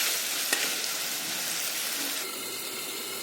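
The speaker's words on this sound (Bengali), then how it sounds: "আমরা ততক্ষণ ভাজবো তত সময় টমেটোটা একদম গলি না যায়" Tomatoes frying with rohu fish in a pan on full gas, a dense continuous sizzle and crackle close by, with a faint stirring tick near the start and no voices.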